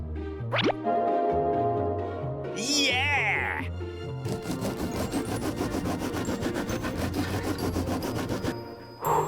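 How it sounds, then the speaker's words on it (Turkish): Steady back-and-forth rasping of a hand saw cutting through a tree in a children's cartoon runs for several seconds under music, following a springy cartoon sound effect. "Testereyi kullanabilirsiniz."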